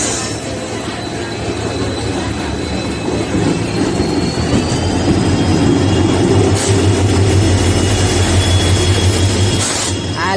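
A passenger train hauled by an ALCO locomotive rolls into Akkannapet station, a steady loud rumble of wheels on rails with a high squeal running through it, and a few sharp knocks along the way.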